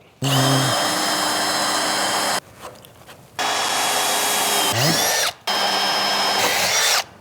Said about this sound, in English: get our holes drilled through the bottom plate